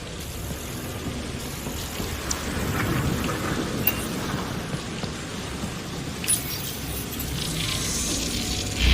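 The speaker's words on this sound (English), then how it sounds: "It's raining? How is it raining?" Steady rain pours with rolling thunder across an alien landscape in the video game Mass Effect Andromeda, a continuous wash with occasional low rumbles and no talk.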